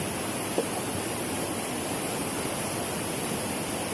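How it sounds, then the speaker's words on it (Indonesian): Steady broadband rush of water flowing in a stream near bamboo on the way to Takengon, a continuous even wash with no voices over it. "Ini ada air mengalir."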